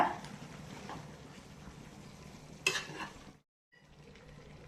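Chicken chops masala fries and is stirred in a pan, giving a steady close sizzle with scraping stirs and a sharper clatter before a brief silence, then a softer sizzle resumes.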